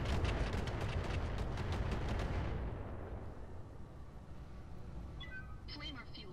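Rocket launchers fire a rapid barrage of booming explosions in the mech combat game Roguetech, rumbling loudly, then fading into a low roar as small impact tones ping faintly near the end.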